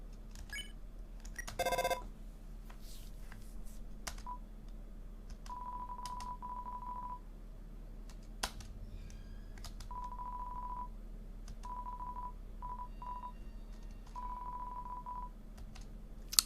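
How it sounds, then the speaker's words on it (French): A telephone in the Undertale video game is dialed with a short burst of tones, then rings in a repeating series of electronic ring pulses over a quiet background hum. "Donc j'ai appelé Toriel et ça sonne là où il y a le chien."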